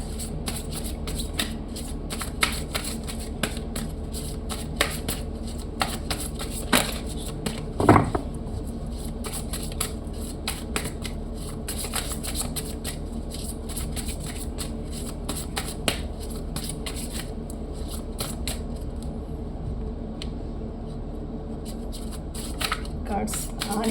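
Tarot cards are shuffled by hand in repeated soft riffles and flicks, close and fairly quiet, with a sharper snap partway through.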